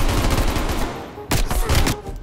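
Rapid bursts of gunfire from a 4-round burst weapon in Call of Duty: Black Ops Cold War, dense and loud, with a short gap before a final volley.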